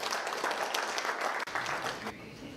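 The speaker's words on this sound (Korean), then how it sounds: "박수 한번 보내주세요." Applause greets a speaker at a book launch event in Toronto, a dense, steady patter of clapping from the audience that carries on throughout and eases slightly near the end.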